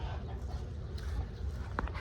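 Roosters on a homestead cluck softly in short scattered calls over low rumbling background noise, with one sharper cluck standing out near the end.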